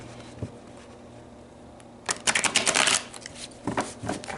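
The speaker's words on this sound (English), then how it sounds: "I feel like I need to keep shuffling." A deck of cards is shuffled during a mediumship card reading: near silence at first, then a close, brisk burst of riffling, a pause and a shorter second round.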